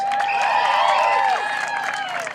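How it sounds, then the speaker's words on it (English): A dense crowd at the We Are Lawrence rally in 2012 applauds and cheers loudly and steadily as a speaker is welcomed to the stage, with voices mixed into the clapping before it eases slightly. "Give her a round of applause."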